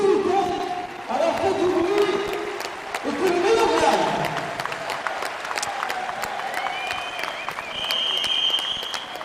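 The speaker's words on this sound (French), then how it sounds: "Nous allons applaudir" Warm applause fills a petanque arena after the final triplette matches of the French Cup in Montbéliard, a dense steady clatter of many hands with occasional sharp slaps and a brief tonal beep near the end.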